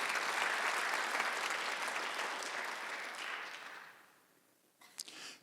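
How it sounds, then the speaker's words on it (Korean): Applause from a church congregation at a Sunday worship service, a dense sustained clapping that fades out partway through, followed by near silence and a few faint knocks. "믿는 사람만 박수 쳐보세요."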